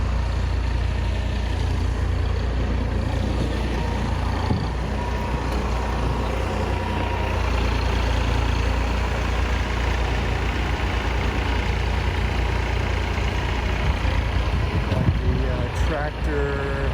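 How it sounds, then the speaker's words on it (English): A front end loader and backhoe combo tractor idles at a construction site for a mall renovation in the rain. Its low, steady engine rumble runs continuously at a moderate distance, with faint background noise. "front end backhoe combo over there doing some work"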